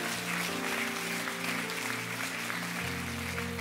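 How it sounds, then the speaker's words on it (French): A church congregation applauds the elders, a faint, steady patter of clapping from the assembled crowd, with sustained organ-like tones beneath that shift partway through. "Est-ce qu'on peut applaudir bien fort tous les anciens"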